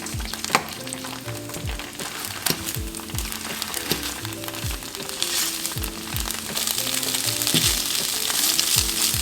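Mashed tofu frying in a pan, a steady close sizzle with crackles and occasional scraping knocks from stirring, no talk, growing slightly louder toward the end.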